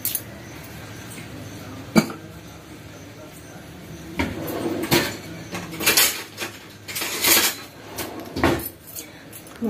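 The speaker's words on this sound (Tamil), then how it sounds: "வாங்க மாவை கலக்கி வச்சிடலாம்." Ragi (finger millet) dosa batter being mixed in a bowl with a little salt: irregular scrapes and clinks of utensil against the bowl, close and fairly loud, with sharp knocks and denser clattering bursts toward the end.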